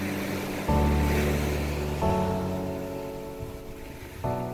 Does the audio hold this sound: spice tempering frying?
no